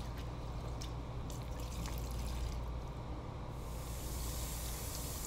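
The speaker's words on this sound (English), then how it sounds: "Wash rice until water is clear and soak." Rice being washed in water before cooking fish biryani, a quiet, soft sloshing and trickling of water that stays faint and steady throughout, with no voices.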